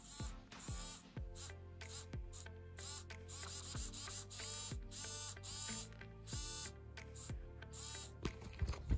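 Small Arduino-controlled hobby servo motor turning back and forth in quick ratcheting bursts, close and quiet, a series of short whirring gear sweeps separated by brief pauses.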